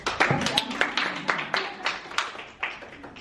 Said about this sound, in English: Give the lady a round of applause.